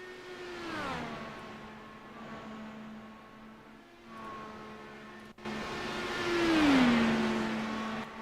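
An IndyCar race car engine in the sim racing game iRacing, at Texas Motor Speedway, drones at a fairly low level, dipping in pitch early on and then swelling up and back down in a rev near the end, with no talk.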